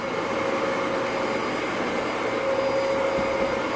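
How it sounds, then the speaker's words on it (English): A vacuum cleaner runs steadily in a home while a toddler pushes it around, a constant loud whine with a sharp tonal hum and no breaks, no one speaking over it. "He's helping vacuum."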